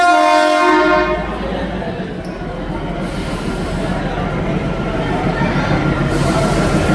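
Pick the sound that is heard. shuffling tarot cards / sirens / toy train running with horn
toy train running with horn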